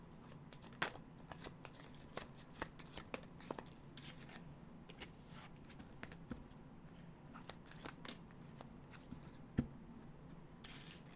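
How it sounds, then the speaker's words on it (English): A large tarot card deck is shuffled by hand, giving soft papery riffles and repeated quick taps and flicks, faint and close, with no talk over them. "I'm just shuffling this back in here. This stupid big deck."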